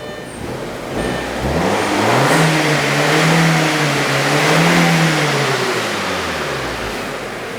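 A car engine revs up and holds high, its note rising and falling steadily as it runs with an ignition misfire being checked; a loud, close, single sustained rev with no talking.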